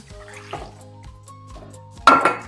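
Cold water pours into a bowl for a salmon brine of sugar, black pepper and garlic powder, a close liquid splash that swells loudly near the end after quieter trickling sounds.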